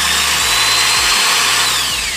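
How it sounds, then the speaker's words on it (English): Small drill bit slowly boring a pilot hole for a homemade air gun, a steady close power-tool whine lasting throughout with slight dips in speed and no talk. "Start with a really slow drill."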